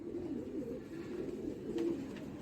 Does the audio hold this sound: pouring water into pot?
no